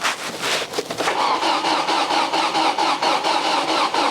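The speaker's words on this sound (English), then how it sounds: "Wow, that sounds good, doesn't it? That sounds really good for a car that's been sat for several years." An old car engine running again after sitting unused for several years, cranking briefly and then settling into a steady, close, fairly loud running sound with a faint squeal, with no talking over it.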